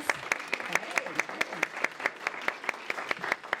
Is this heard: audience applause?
yes